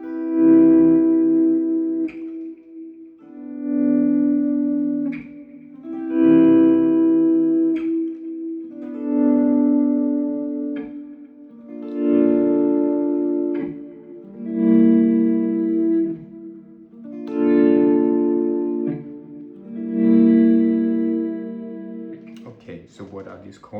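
Electric guitar chords on a third track fade in slowly as volume swells, about eight soft washes in a steady rhythm. Each one rises and falls with reverb and ends in a faint strum.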